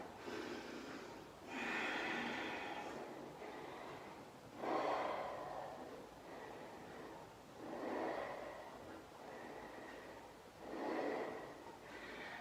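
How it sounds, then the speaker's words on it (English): Deep recovery breaths during a yoga session while resting in child's pose. Slow, audible inhales and exhales alternate in a steady rhythm, close and breathy, with no talking. "Couple of recovery, deep breaths here."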